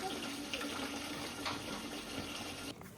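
Water runs steadily into a container at a campsite with a rushing, splashing sound that stops abruptly near the end.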